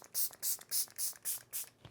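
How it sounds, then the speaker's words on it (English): Milani Make It Last setting spray misted onto a made-up face: six short, evenly spaced hissing bursts from the pump, close and clear with no talking. "I didn't put a setting spray on. Let's use the Milani one, Make It Last"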